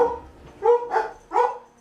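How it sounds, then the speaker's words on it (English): Dogs at home give three short, sharp barks in quick succession, close and fairly loud, with quiet between them. "Don't know what's wrong with the dogs, they've heard something"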